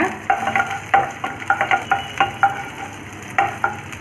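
Chopped garlic sizzles in hot oil in a pan while stirred, with a run of sharp scraping taps over a steady low frying hiss.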